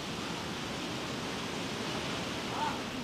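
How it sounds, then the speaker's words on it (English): Wind rustles grass and trees around a quiet mountain village at night, a steady soft broadband hiss that stays even and fairly faint throughout. "The only sound is the grass and trees shaking in the wind."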